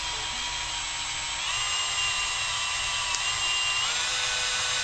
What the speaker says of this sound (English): So you want to drill through it real slow.